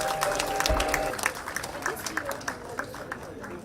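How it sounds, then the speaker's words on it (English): Audience applause after a children's performance at a Sakuraa India Foundation event, loud clapping from a crowd with cheering at first, thinning into scattered claps. "please give a big round of applause for your children's performance."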